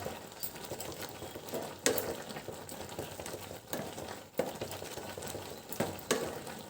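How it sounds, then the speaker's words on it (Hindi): Kesariya halwa with dates being stirred and mixed in a pan, with soft scraping and clattering strokes repeating steadily at close range, no voices. "जो थोड़ा बहुत है उसे भी हम इस तरह से मिक्स करते जाएंगे"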